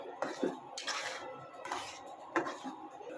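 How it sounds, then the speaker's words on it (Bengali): A spoon stirs khichuri with carrots in a cooking pot, giving a few quiet scraping and clinking strokes against the metal in short bursts, faint and close, with no talk. "এখন আমি নেড়ে দেব"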